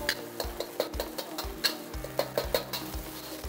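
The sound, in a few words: eggs being stirred into hot oil in a pan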